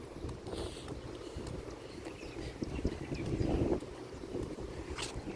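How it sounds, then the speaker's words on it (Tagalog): Steady wind buffeting the microphone, a broad rumbling roar with gusts that swell around the middle, no talking. "lakas ng hangin"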